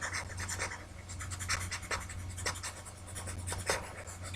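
Writing on a board is being erased, giving a run of soft, close scratchy rubbing strokes over a steady low hum.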